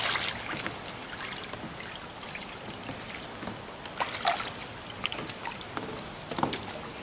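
A greasy grill grate being dunked again into a bath of degreaser liquid, giving soft trickling, dribbling water sounds with a few brief splashes, close by and alone.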